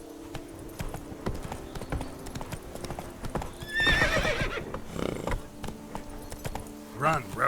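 A horse gallops in The Witcher 3 video game: steady, close clip-clop hoofbeats with a neigh partway through, while a voice speaks over them.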